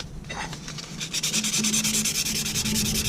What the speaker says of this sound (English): So I'll start to show you what it's like with some sandpaper quickly.